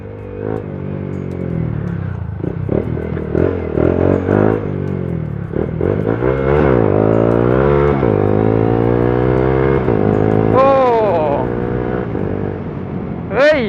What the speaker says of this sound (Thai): คือควิกชิฟเตอร์ที่เราติดตั้งไปอะ ก็มันจะเข้ามาช่วยให้เราสามารถเข้าเกียร์ จาก 2 เป็น 3 โดยที่ เราไม่ต้องกำคลัสและไม่ต้องผ่อนคันเร่งนะ